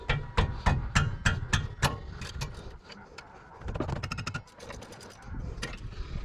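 Wrench loosening two 17mm brake caliper bolts on a Toyota Soarer, a close series of rhythmic ratcheting clicks and metallic knocks, fairly quiet, with a short pause midway before the clicking resumes.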